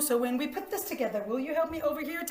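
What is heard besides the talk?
None of the usual background noises is heard.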